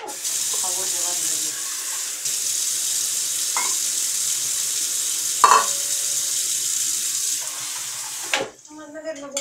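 Cold water poured from a tap into a pot of rice being cooked with vegetables for vegan cabbage-roll casserole, a steady hissing stream running for several seconds with a brief clatter near the end and a voice talking faintly.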